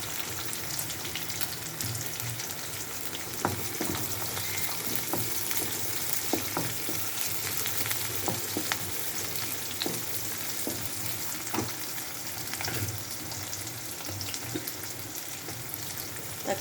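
Onions sautéing in oil in a pan for chicken gravy, a dense, even frying hiss that runs throughout with scattered soft stirring clicks and spatters, close up and without voices.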